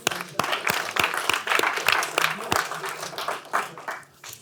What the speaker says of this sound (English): let's give Joanne a big round of applause